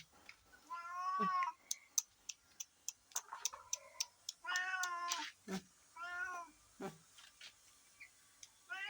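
A cat meows repeatedly while being given chicken, clear close calls with ticking and small clicks between them.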